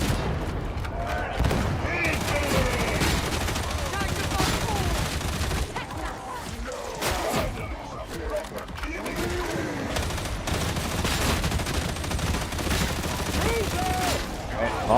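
Rapid bursts of gunfire from a video game battle, with volleys and single shots layered over continuous background noise and occasional booms, plus a voice talking over the action.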